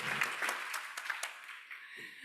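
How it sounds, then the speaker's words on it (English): Brief round of applause from a symposium audience in Turin welcoming the host, moderately loud scattered clapping that thins out over about two seconds. "Does that mean we get a little bit bigger round of applause for her?"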